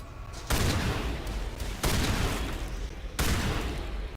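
Loud, sustained bursts of gunfire crash in the video game Mass Effect as a shotgun fires, three long harsh blasts each starting abruptly and roaring on without pause.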